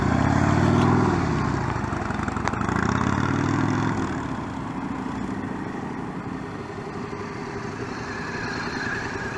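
A motorcycle engine during one-on-one rider training, a steady mid-pitched drone with a low rumble that swells slightly early on and then holds even, with no talking.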